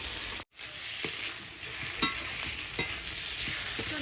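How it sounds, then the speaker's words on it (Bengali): Spice paste and potatoes for chicken biryani fry in a pan under steady stirring, a constant close sizzle broken by regular scraping strokes of the spoon and one brief pause. "এবার আমি মশলাটা কষিয়ে নিই।"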